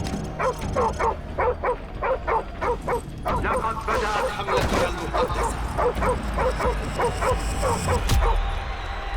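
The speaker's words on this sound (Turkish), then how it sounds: "Köpek bile saldırıyor lan bize" Dog in Modern Warfare Remastered barking and yelping in rapid bursts, loud and close, in two long volleys with a brief pause, over background game noise.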